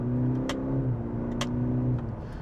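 A 2020 Cadillac CT4-V with a 10-speed paddle-shift gearbox downshifts to third at about 3,000 RPM, giving a steady mid-pitched engine drone that swells slightly while a couple of brief clicks sound over it.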